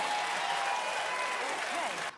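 A studio audience on The View talk show claps in a dense, steady wash of applause that runs the whole moment and cuts off abruptly at the end, with faint voices underneath.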